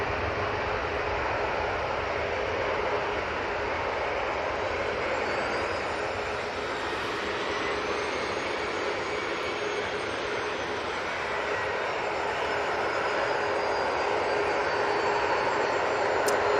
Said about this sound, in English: And that Easyjet was off to Faro using that A320-200.